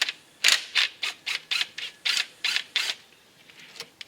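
A ratchet with a 10mm socket loosening bolts on a Jeep Grand Cherokee 3.6 Pentastar engine: about a dozen crisp, evenly spaced clicks, close and clear, slowing and fading near the end.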